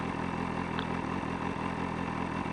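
A motorcycle with a warm engine idles at a standstill on a hot day in Kleve, Germany, a steady low rumble with a regular thumping pulse heard close up, with no talking.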